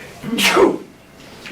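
A single short sneeze, fairly close and clear, from someone at a town planning board meeting, followed by quiet room tone.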